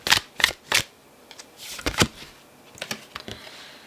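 Tarot cards shuffled in several quick riffling bursts, close and crisp, with short pauses between the flurries and no voices.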